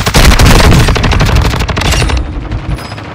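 Rapid gunfire in a shooter video game, a loud burst of closely spaced cracking shots that thins out and fades toward the end.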